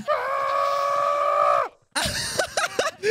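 A goat in Minecraft lets out a long, loud, human-like scream lasting over a second and a half, then after a short silence a burst of shrill, wavering cries and squeals follows.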